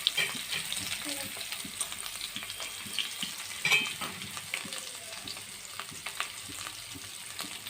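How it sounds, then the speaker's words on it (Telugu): Cumin, whole spices, onion and curry leaves fry steadily in hot oil in a pan for home-made tomato rice, a continuous close sizzle with occasional stirring scrapes and no talking. "ఇవి లైట్గా వేయించుకోవాలి."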